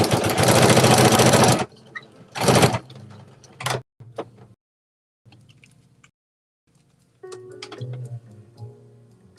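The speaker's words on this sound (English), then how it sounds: "I'm sewing on a domestic machine." A domestic 2-in-1 embroidery and sewing machine, the NS2750D, runs in loud close bursts: a long burst and a shorter one, then brief ticks and clicks, quiet pauses and softer mechanical rattling.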